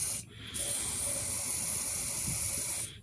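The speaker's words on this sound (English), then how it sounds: "Here's some little air sanitizer. It's an aerosol can, but check this out." An aerosol can of air sanitizer sprays steadily into a small engine as a quick fix during hurricane season, a continuous hiss lasting nearly three seconds with a brief gap near the start, loud and close with no talk.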